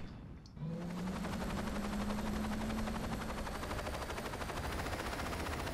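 Helicopter in the video game Saints Row 2 starting up: after a brief quiet moment, a loud dense continuous rotor and engine roar with a rising whine, filling the rest of the clip.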